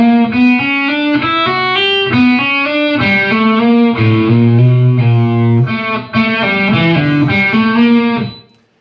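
A distorted electric guitar plays a riff slowly, a string of sustained, overdriven notes stepping up and down in a steady rhythm, loud and alone, ending with a brief fade.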